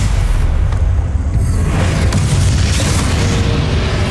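A Bombarda blasting spell detonates in the Hogwarts Legacy game, a loud, sustained roaring boom that fills the whole stretch with dense rumble and no talking.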